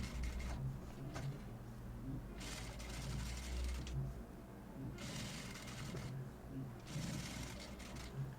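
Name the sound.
sewing machine stitching a blouse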